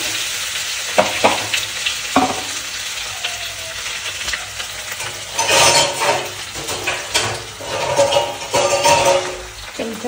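Chopped onions drop into hot oil flavored with cumin in a home frying pan, setting off a loud, close sizzle with irregular bursts and stirring scrapes against the pan.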